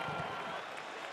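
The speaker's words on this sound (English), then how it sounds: "Capacity crowd at Barclays Center in Brooklyn, New York." Capacity arena crowd applauding and cheering at Barclays Center in Brooklyn, New York, before a UFC middleweight fight, a dense steady roar of clapping with no break.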